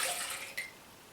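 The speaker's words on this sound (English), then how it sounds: "The first thing you're going to need to do is to pour the milk into the mixing bowl." Soya milk pours into a mixing bowl as part of a gluten-free vegan cake batter, making a soft, steady splashing hiss with a brief clink partway through. It is quiet and close, with no talking.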